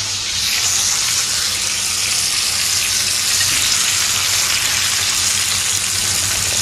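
A large pomfret fish frying on one side in a pan: an even, continuous hissing sizzle that stays loud and unbroken throughout.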